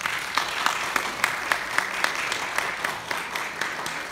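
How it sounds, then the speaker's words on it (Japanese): Steady, moderately distant applause from an audience at a Japanese calligraphy and bushido talk event, continuous for four seconds with a few sharper individual claps standing out in a loose rhythm. "杉先生並びに、弘前さんにもう一度大きな拍手をお願いいたします。"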